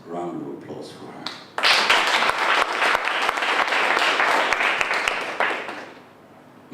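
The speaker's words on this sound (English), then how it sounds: "Another neat round of applause for her." A room of listeners breaks into loud, sustained applause, with sharp individual claps standing out. It follows a short stretch of talk and fades after about four seconds.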